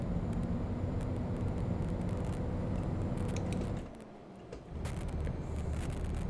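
A Scania R480 truck engine in Euro Truck Simulator 2 drones steadily with a low, loud hum, briefly dropping away for a moment before returning to its constant rumble.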